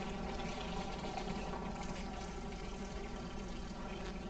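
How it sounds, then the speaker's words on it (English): Hot stock pours from a bowl into a pot in a home kitchen, giving a continuous soft liquid rush that stays even and fairly quiet for the whole stretch, with no talking. "I'm going to go ahead and start pouring in some of this stock."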